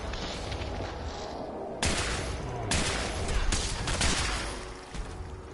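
Enemy gunfire in Fallout 4 crackles in repeated loud bursts and volleys, a sustained fusillade with several sharp onsets and no talking.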